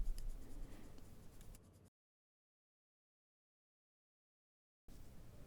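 Pencil scratching over paper while detailing a flower drawing, a soft continuous rasp that stops for a few seconds of silence and then resumes, close and quiet.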